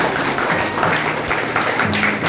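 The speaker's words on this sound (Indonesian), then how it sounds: "Tepuk tangan untuk Pak Doni" Audience applause for a speaker at a business award event, dense continuous clapping from a crowd filling the room at fairly loud level.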